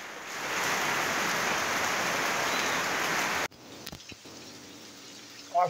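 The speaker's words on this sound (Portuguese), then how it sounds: "o tempo agora está chovendo nesse momento" Steady heavy rain hisses for a few seconds in Salvador, Brazil, then cuts to a quieter scene with light rain and a few scattered knocks.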